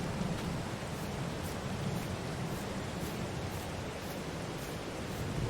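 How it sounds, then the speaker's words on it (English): Rain drums steadily on the roof and body of a truck while it sits parked at the edge of a soybean field, heard from inside the cab as a constant, even patter, slightly muffled, with no voices. "we are going to go sit in our truck and wait this rain out"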